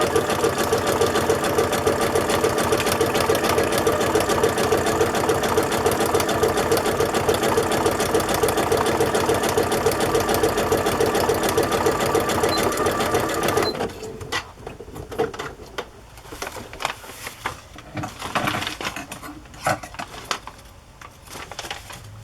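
A sewing machine stitches zigzag on fabric in a fast, steady mechanical whir that runs for about fourteen seconds, then stops, leaving quieter handling noises and rustling.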